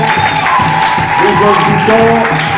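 Congregation applauding and cheering a married couple as they walk forward at a church service: a short burst of dense clapping and raised voices, with musical tones sounding underneath.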